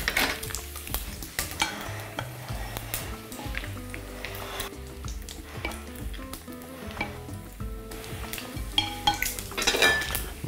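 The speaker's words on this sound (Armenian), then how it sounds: "Պաստա պենն լցնում ենք բանջարեղենի վրա։ Տակնու վրա անենք։" Penne pasta and vegetables are stirred in a sizzling pan for a baked pasta casserole, with a continuous close sizzle and frequent scrapes and knocks of a utensil against the pan.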